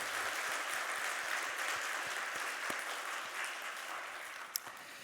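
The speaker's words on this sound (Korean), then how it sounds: "하나님 감동 받으시도록 우리 힘차게 박수 한번 하도록 하겠습니다" A church congregation at a Sunday service claps together in a steady, sustained round of applause, a dense wash of hands echoing through the hall with no voices over it.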